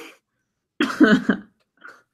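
A single close cough, a harsh burst of two or three quick hacks, followed by a faint trailing sound in an otherwise quiet room.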